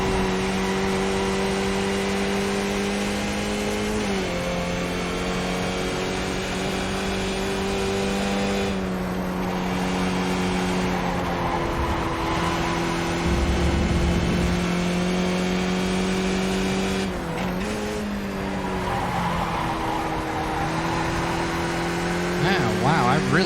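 Skip Barber race car engine in an iRacing sim race, a continuous buzzing drone that rises and falls with steady pitch sweeps as gears change and the car accelerates through turns.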